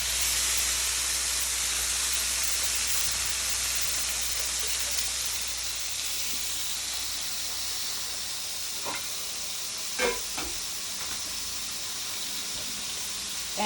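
Steak searing undisturbed in a pan, a continuous broad hiss of sizzling fat at moderate level, with a few faint clicks and knocks near the end.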